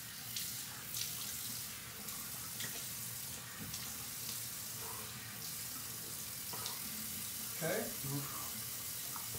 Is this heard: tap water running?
yes